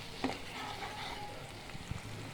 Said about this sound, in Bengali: এখন মশলাটা ভালো করে লাল লাল করে একটু ভেজে নেব।